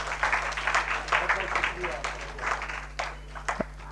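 Audience applause at a Children's Day award ceremony for a children's drawing competition, where a memento is presented to the chief guest. Dense, continuous clapping runs throughout with a steady electrical hum beneath it.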